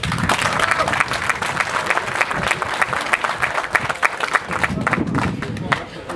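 A crowd applauds the teams at a carp angling championship at Dębowa, sustained rapid clapping from many hands with a murmur of voices underneath, easing slightly near the end.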